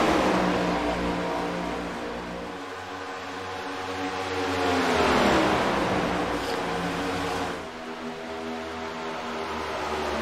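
A race car engine in an All American Racing League race at Charlotte, a steady droning roar that swells as it accelerates past and then eases off, with other cars sounding behind it.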